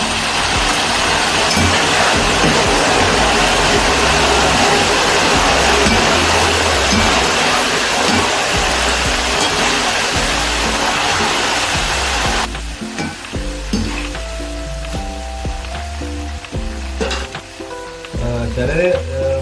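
Salt water hits homemade Onam banana chips frying in hot oil, setting off a loud, steady, close sizzle that runs for a long stretch before dropping to a softer, quieter bubbling.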